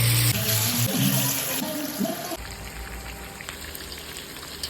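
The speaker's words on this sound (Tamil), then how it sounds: "உப்பு எல்லாம் போட்டு நல்லா விரசி பொரிக்க ஆரம்பிச்சிட்டோம்." Spiced fish frying in oil, coated with chilli powder, chicken masala, pepper and salt, gives a steady loud sizzle and crackle with bubbling, fairly close, with no one talking.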